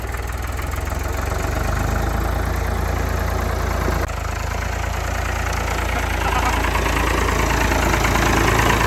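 A Ford 3000 tractor engine idles continuously nearby, a deep steady rumble with a faint rhythmic knock, holding constant throughout.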